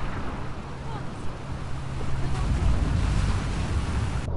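Ocean surf and rough water churning around a small boat in The Last of Us 2, a steady loud wash that swells bigger about halfway through, with no voices.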